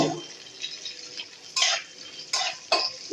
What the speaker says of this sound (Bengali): সবগুলোকে আমি একসঙ্গেই নেড়ে চেড়ে ভেজে নেব